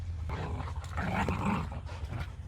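A puppy growling during play, a steady rumbling growl with brief snarly bursts, close and fairly loud throughout with no talk over it.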